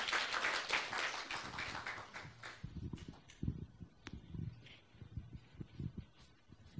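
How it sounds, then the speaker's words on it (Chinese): A church congregation applauds to welcome a speaker, a burst of clapping that starts fairly loud and thins out into scattered claps and footsteps within a few seconds. "我们鼓掌欢迎他。"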